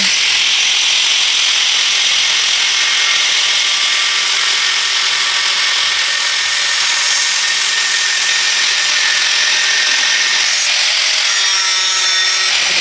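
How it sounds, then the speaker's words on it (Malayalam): A grinder working the edges of an acrylic LED sign letter, a loud, steady, high-pitched abrasive whine that runs continuously with no talk. "ഇതിന് ശേഷം നമ്മൾ ഗ്രൈൻഡർ വെച്ചിട്ട് ഗ്രൈൻഡ് ചെയ്യാൻ പോവാണ് കേട്ടോ"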